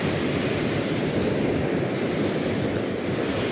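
Strong ocean waves crash and surge on the shore in a continuous loud roar, with wind buffeting the microphone throughout.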